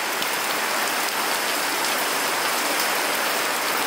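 Heavy rain pouring steadily at a bus terminal, a dense, constant hiss of drops hitting surfaces with no pauses, loud and close.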